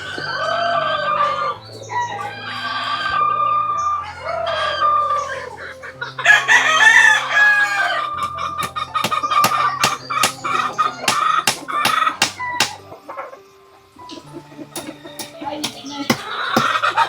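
A rooster at an old family house crows loudly and close, several drawn-out cock-a-doodle-doos mixed with clucking, while people talk over and between the calls.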